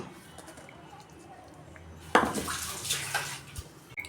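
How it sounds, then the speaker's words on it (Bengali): Water splashes into a rinsed mixer-grinder jar and is poured out, a sudden loud rush after a quiet stretch, while cooking potol bhapa with mustard and poppy-seed paste in a home kitchen. "মিক্সির বাটিটা ধুয়ে আমি অল্প জল দিয়ে দিচ্ছি।"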